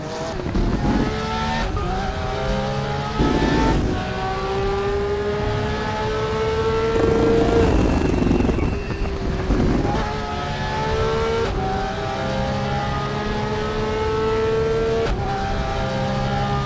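Porsche GTR3 race car engines roaring around Laguna Seca in the RaceRoom racing game, several cars revving and shifting up through gears in rising whines, with brief tire squeal and a dip in one corner; loud and continuous throughout.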